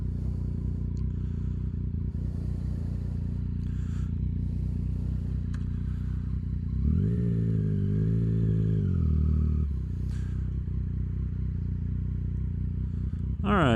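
A Yamaha FJ-09 motorcycle fitted with a Black Widow exhaust idles with a low rumble, then swells into one short rev partway through before settling back to idle.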